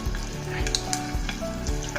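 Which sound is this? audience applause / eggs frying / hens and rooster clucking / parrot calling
eggs frying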